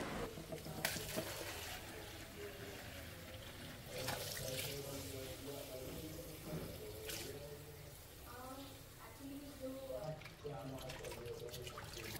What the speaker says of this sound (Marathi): आता मी ही ओजळी स्वच्छ धुवून घेते